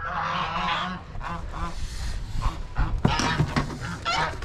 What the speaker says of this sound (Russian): наша задача сейчас подстричь ногти еще четверым гусям